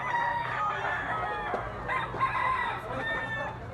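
A big yellow-legged bull stag rooster crows, its loud, close call carried over a steady low background hum, with no voices present.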